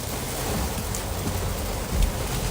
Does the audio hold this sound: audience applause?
no